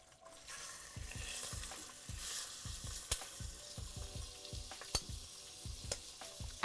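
Food frying in a hot pan while cooking Italian dishes, turkey or prosciutto-wrapped squash, a steady close sizzle broken by repeated sharp spits and pops, with no voices.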